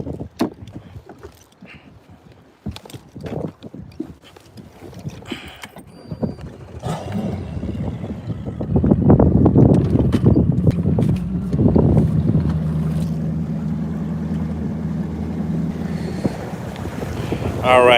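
Steady wind buffets a bass-fishing boat out on Lake Lanier, a rushing, rumbling roar that swells louder midway and stays strong, with a low drone running underneath.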